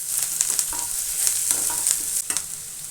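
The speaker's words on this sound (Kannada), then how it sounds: "ಕಾಳು ಮೆಣಸಿನ ಪೌಡ್ರು, ಧನಿಯಾ ಪುಡಿ, ಖಾರದ ಪುಡಿ, ಗರಂ ಮಸಾಲ ಇಷ್ಟು ಹಾಕ್ಕೊಂಡು ಒಂದೊಳ್ಳೆ ಮಿಕ್ಸ್ ಕೊಡಿ." Spices—pepper powder, coriander powder, chilli powder and garam masala—stirred in a pan for egg baji, a steady scraping and light sizzle with repeated spoon strokes, close and moderately loud, no voices.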